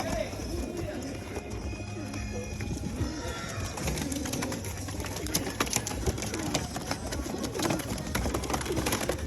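Pigeons cooing among other birds at an outdoor pigeon swap and sell, a steady busy backdrop with people talking throughout and occasional clip-clop sounds mixed in.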